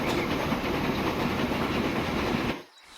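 Steady rumbling rolling noise of a game train on the Baghdad Railway in Transport Fever 2, continuous and fairly loud, cutting off abruptly near the end.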